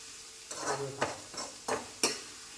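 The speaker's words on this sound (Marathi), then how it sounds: "कांदा व्यवस्थित भाजून घेऊया आपण" Onions fry in oil for chicken gravy and are stirred with a spatula, giving a steady close sizzle cut by several scraping strokes against the pan.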